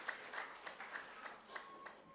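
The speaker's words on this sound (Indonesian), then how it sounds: "tepuk tangan untuk anak-anak sekolah minggu kita" A church congregation at a Christmas Eve service claps for the Sunday school children, a faint, distant run of rhythmic claps at a steady beat that fades after a couple of seconds.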